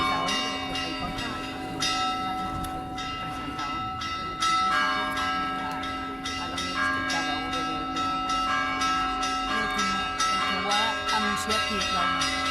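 Church bells ring together in a bell concert in Picanya, with steady overlapping peals and resonant tones sustained throughout, loud and close.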